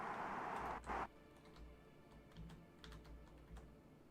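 Keys clatter on a computer keyboard during play of Kerbal Space Program, a dense burst of fast typing followed by a few scattered, lighter clicks, close and alone with no talk.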